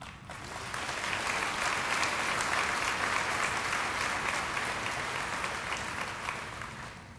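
An audience at a tribal principal chief's inaugural address breaks into sustained applause, a dense, even wash of clapping that swells quickly and fades slightly toward the end.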